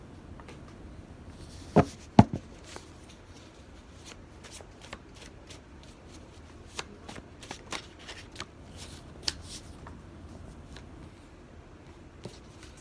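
Tarot cards being handled and shuffled in a quiet room, with a couple of sharper snaps early on and then scattered soft riffles and taps at close range, no talking.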